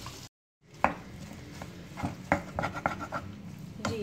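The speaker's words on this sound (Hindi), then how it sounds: "अब मैं इसमें आलूओं को शामिल कर रही हूँ।" Potatoes tipped into a pan of roasting masala, with a few soft thuds and scraping stir strokes over a low steady sizzle, close and moderately quiet.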